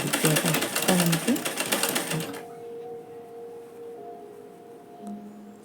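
A sewing machine stitches the lining of a balloon puff sleeve, running in a fast, dense rattling burst for about two seconds before stopping. A low, steady hum lingers afterward.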